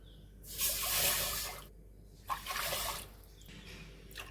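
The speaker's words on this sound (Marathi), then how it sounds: "या वाटीने मी तीन वाट्या पाणी कुकरमध्ये घालणार आहे" Water poured from a small bowl into a pressure cooker for cooking rice, three quiet splashing pours close by, each lasting about a second, separated by brief pauses.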